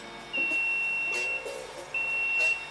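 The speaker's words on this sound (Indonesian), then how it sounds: "Ketika nyampe waktu itu, alarm akan berbunyi kayak gini nih." The timer alarm on a coffee roaster sounds two long, steady, high-pitched beeps of about a second each, close and clear, with a short gap between them over quiet background hum.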